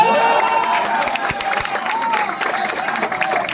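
A large crowd at a political rally in Kalyan cheers and claps in a dense, sustained roar of voices and applause, loud and continuous throughout.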